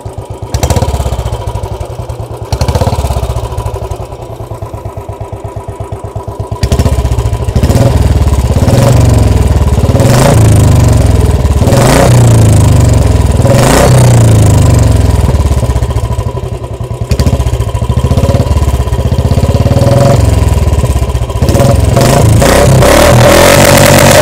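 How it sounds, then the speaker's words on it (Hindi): A Royal Enfield Bullet 350 engine with a 10 kg crank revs repeatedly, rising and falling in loud, close bursts over a thumping idle, with several sharp throttle blips. "थोड़ा सा एक्सीलरेट करता हूँ मैं इसको"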